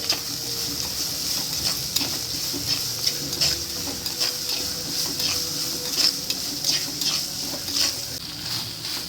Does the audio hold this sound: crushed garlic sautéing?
yes